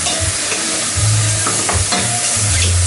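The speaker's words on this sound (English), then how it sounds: "get the butter on the bottom of the pan" Butter and mushrooms sizzle loudly in a frying pan, a close, constant crackling hiss with bursts of stirring and scraping throughout, no voices.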